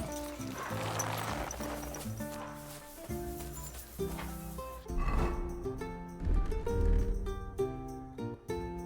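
Horse hooves clip-clop over background music in the medieval video game Kingdom Come: Deliverance 2, with a neigh rising near the end; the sound is close and fairly loud, with no talk.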